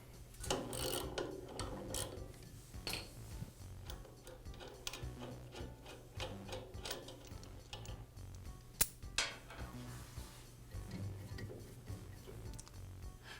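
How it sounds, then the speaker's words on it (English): Steady mechanical ratcheting and clicking as a reverse-thread bolt is turned clockwise off the lower wheel of a Jet band saw, close and moderately loud, continuous over a low hum. "I'll go ahead and remove it by turning it clockwise."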